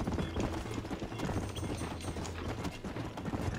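Hooves clip-clop steadily as a horse gallops in a video game, a continuous rhythmic pounding at moderate loudness with no talk over it.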